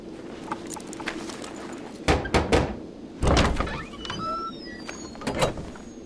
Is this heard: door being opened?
yes